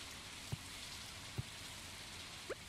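Rain in the video game Stardew Valley, a quiet, even hiss of falling rain with three soft, brief taps spread across it and no voices.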